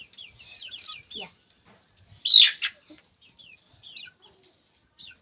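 Chickens cluck while pecking grapes from a hand, with soft bird calls scattered throughout and a single louder squawk near the middle.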